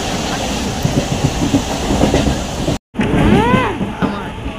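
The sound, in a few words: passenger train running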